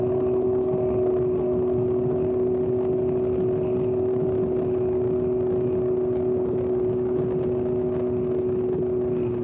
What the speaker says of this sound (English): God, this exhaust is loud.